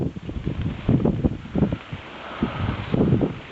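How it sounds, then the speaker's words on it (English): Wind on an urban farm rooftop buffets the microphone in loud, uneven gusts that rise and fall over a few seconds. "Windy day up here."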